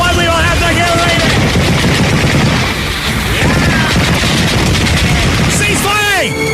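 A loud, dense machine gun fire effect rattles continuously through a Vietnam war comedy skit, mixed with booms and shouting voices and sweeping whistles near the end.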